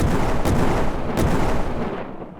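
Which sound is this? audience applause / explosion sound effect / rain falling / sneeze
explosion sound effect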